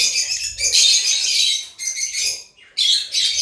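Caged African lovebirds, including albino and parblue birds, shrill chattering calls in dense bursts with short gaps, loud and close.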